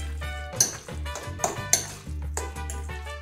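Guacamole ingredients with salt and pepper being stirred and mashed in a bowl, producing a few sharp clinks of a utensil against the bowl over a steady low background hum.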